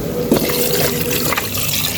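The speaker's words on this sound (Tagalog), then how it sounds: "ilagay ko na po itong tubig" Water pours steadily into a cooking pot in a home kitchen, a close, loud, continuous splashing gush with no talk over it.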